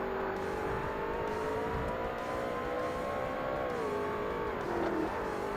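A race car engine in the Forza Motorsport video game, endurance class R-GTS, drones steadily at high revs, then its pitch drops sharply near the end as the car downshifts into second gear.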